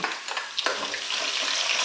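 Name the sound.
sautéing garlic and green chillies in a pan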